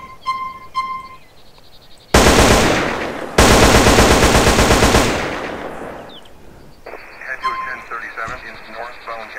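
Loud automatic M4 rifle fire from GTA San Andreas, two dense sustained bursts of rapid shots close up, separated by a brief pause, with quieter game sounds before and after.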